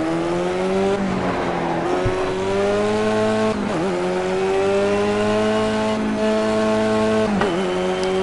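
In the video game Project Cars, a race car engine holds a high, steady revving whine. The pitch dips and rises a few times as the throttle is blipped, and the sound stays loud and constant the whole time with no talking.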